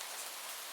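Steady rain falls in a soft, even hiss with fine patter throughout, quiet and unbroken by any voices.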